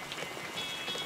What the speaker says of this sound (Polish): Ta ulewa jest coraz mocniejsza.